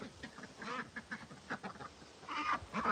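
A flock of ducks of four different types quacks at a barn, with overlapping, irregular calls rising and falling close by and a busier burst toward the end.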